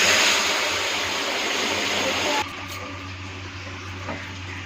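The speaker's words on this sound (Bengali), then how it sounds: "এখন ডালটা ঢেলে দিব।" Dal poured into a sambar pot makes a close, dense rushing splash that runs steadily for a couple of seconds, then cuts off sharply, leaving a quiet low hum and a small knock.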